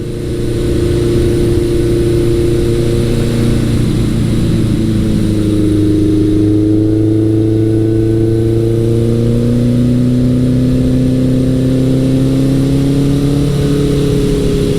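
A 1983 Suzuki GS1100L motorcycle with a Delkevic exhaust, heard up close as a loud, steady engine drone that climbs smoothly in pitch while accelerating, with no talking.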